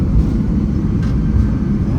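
Steady, loud low rumble of aircraft engines at Ontario airport, with UPS cargo planes nearby, a continuous broadband roar heard from inside a plane without any break.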